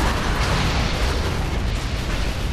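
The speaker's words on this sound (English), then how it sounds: "The orbital laser is now ready to fire" A powerful, sustained blast from the orbital laser in the tower-defense video game Defense Grid 2, a dense, roaring wall of noise that holds loud and steady throughout with no speech over it.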